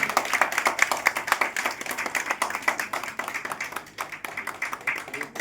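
An audience claps in welcome at an awareness program in Dwarka, New Delhi, crisp, rhythmic clapping from a modest crowd close by, steady throughout and slowly thinning.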